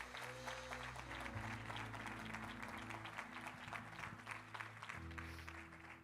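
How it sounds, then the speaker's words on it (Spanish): Steady clapping from a church congregation fills the whole stretch, loud and continuous, with sustained musical tones underneath. "Denle un aplauso fuerte a Dios en esta hora."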